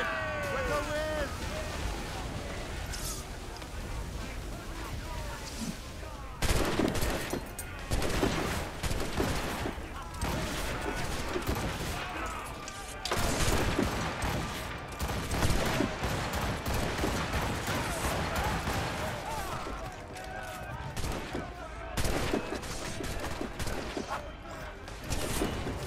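Ship cannons fire in volleys during a naval battle in Assassin's Creed Rogue, loud booming bursts repeating over about 26 seconds amid shouting crew, wind and sea noise.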